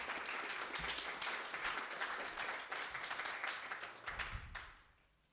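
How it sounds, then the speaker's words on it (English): Audience applauding to thank a primary school for its welcome, a sustained dense round of clapping that tapers and fades out near the end, fairly distant and soft. "I think we should give them a round of applause."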